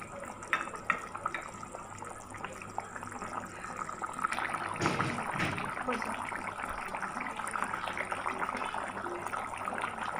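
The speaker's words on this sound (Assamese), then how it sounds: "এতিয়া মাংসখিনি উতলি আহিছে।" Chicken curry with garam masala bubbling in a pot, making a steady wet simmering and gurgling hiss that grows fuller midway, under occasional soft talk.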